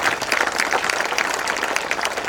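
An audience at a school talk claps together, a dense, steady burst of many hands heard fairly close and loud throughout.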